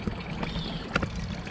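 Water overflowing near a porch trickles and pours steadily, a soft continuous splashing heard up close with no talking.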